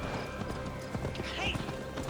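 Horse hooves clip-clop in Assassin's Creed Valhalla, a quick run of hoofbeats alongside game ambience, a brief whinny and some talking.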